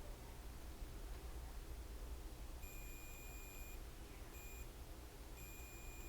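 Multimeter continuity tester on an Xbox Series X HDMI port, giving faint high steady beeps in short bursts, one longer and two briefer, over a quiet hiss.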